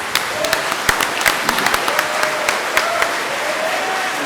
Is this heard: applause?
yes